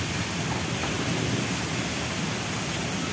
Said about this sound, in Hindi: अब बारिश के साथ में इतनी जोर की आंधी चला रखी है